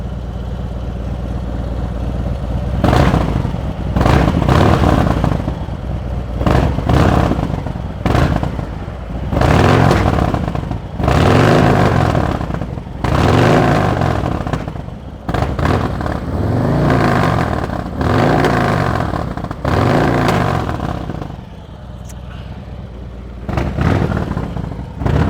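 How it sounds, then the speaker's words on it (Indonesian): A heavy Harley-Davidson V-twin motorcycle engine with an aftermarket exhaust revs repeatedly nearby, roaring up in bursts between short dips to a throbbing idle. "suara Harley, mesin V-twin"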